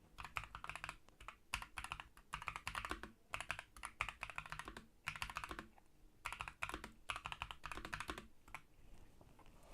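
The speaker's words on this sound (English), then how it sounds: "Keyboard sound, in terms of the noise, I'll try and be quiet so you can actually hear it." Keys on a keyboard with PBT double-shot keycaps are typed on in rapid bursts, producing loud, close, crisp clacking with short pauses between runs and no talk.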